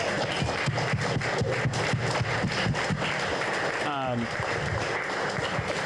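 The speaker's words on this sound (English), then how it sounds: "Can we just clap our hands for Tim real fast?" A crowd at a Boston Red Sox fan club event with former pitcher Derek Lowe applauds. The clapping is dense, steady and close, filling the whole stretch, and a brief voice rises through it near the end.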